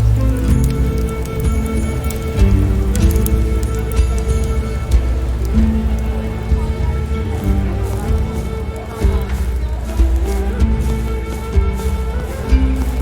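Steady rain falls throughout a scene in the Roman-era game Expeditions: Rome, a continuous hiss and patter of drops on surfaces that sits under a low, constant background rumble, loud and even with no break.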